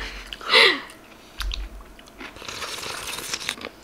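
A person close to the microphone chews food at a relaxed home meal, making crunchy, moist bites in short bursts with one loud crunch near the start.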